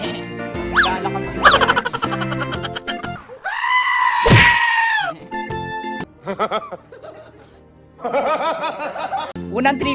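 A goat bleats in short, wavering calls among people talking, with playful, bouncy sound effects mixed in between the voices.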